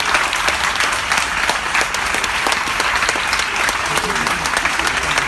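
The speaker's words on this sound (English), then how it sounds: "Can we please get a standing ovation?" An audience at a live podcast interview breaks into a standing ovation, dense continuous clapping filling the room evenly from start to finish.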